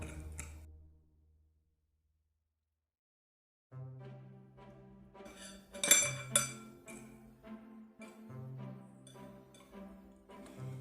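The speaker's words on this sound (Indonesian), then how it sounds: "Lalu aduk mie tersebut sampai bumbunya merata." Instant Indomie goreng noodles being stirred to mix the seasoning, light clinks and taps of a utensil against a bowl or plate, irregular and close, with a quiet gap and a faint hum between.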